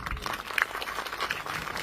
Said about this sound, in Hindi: उनके सम्मान में भी एक ताली बजा दीजिए